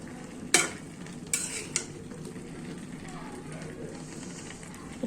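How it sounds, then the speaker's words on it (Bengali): Bombay chili chutney being stirred in oil in a pan, a low sizzle with a few quick metal scrapes and clinks of the spoon early on, then a quieter steady simmer. "একটু লেড়ে ছেড়ে দিব"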